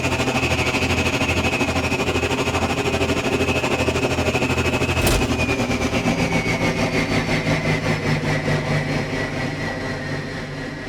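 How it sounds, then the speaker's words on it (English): A hover tank's throttle engine loop from an Unreal Engine 4 game plays alone, a steady, loud mechanical hum with a brief sharp click midway before the drone slowly eases off toward the end. "This throttle sound is triggered by the player pressing W or S to move the tank forwards or backwards"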